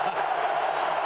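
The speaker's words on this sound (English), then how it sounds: "I can't hear you because the crowd here is just so loud." Dense, roaring stadium crowd at the 2001 Kansas State vs Nebraska college football game, a continuous loud wash of cheering and yelling with no break.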